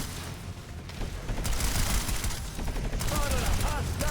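Spitfire-style turret in the video game Planetside 2 firing at a decoy grenade, dense rapid automatic fire, loud and sustained, with a person talking over it.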